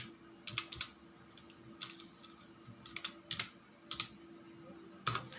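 Typing on a computer keyboard, in English, gives soft, steady, evenly spaced key clicks over several seconds under a faint constant hum, ending with a sharper, louder click.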